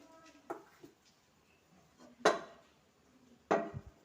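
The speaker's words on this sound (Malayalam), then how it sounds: "ഒരു പാൻ അടുപ്പത്ത് വെച്ച് കൊടുത്തിന്. അതിലേക്ക് കുറച്ച് എണ്ണ ഒഴിച്ച് കൊടുക്കുന്നുണ്ടോ" A pan is set on a stove and oil is poured in while cooking an onion dish. A few distinct metallic clanks and knocks sound close and fairly quiet, separated by pauses.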